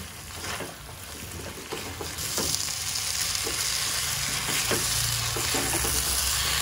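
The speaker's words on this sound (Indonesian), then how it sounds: "Kita aduk biar sausnya merata ke ikannya." Fried fish being stirred in a sweet, sour and spicy sauce in a pan, with steady loud sizzling and intermittent scraping strokes of the utensil, no talk.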